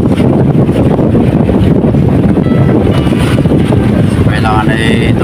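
Strong amihan monsoon wind gusts across a river, roaring loudly against the microphone, with a boat's rumble and a voice talking faintly beneath the steady blustering noise.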